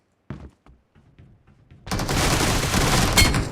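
AKM and Groza rifle fire in PUBG: a few scattered sharp shots give way to a dense, loud sustained burst of gunfire with no voices.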